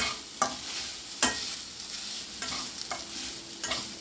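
Coconut powder is lightly dry-roasted in a pan, heard as soft continuous scraping of a spatula with a few sharper knocks against the metal, close and quiet, no voices.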